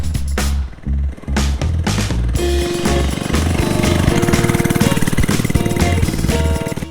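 An FRP 99cc mini bike engine running while ridden on small streets and sidewalk, a close, loud, buzzing putter that revs in short bursts before settling into a steady rapid drone.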